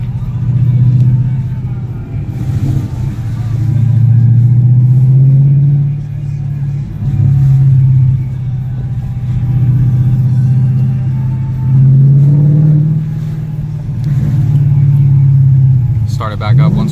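A 2015 Ford Mustang GT Premium with Track Pack and an SVE Stage 2 exhaust rumbles loudly and steadily at close range, with deep swelling revs throughout and people talking over it.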